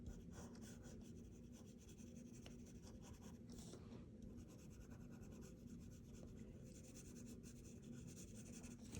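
A drawing of Maximus from Gladiator is rubbed on paper, producing faint, steady soft scraping and brushing strokes close by with no talk.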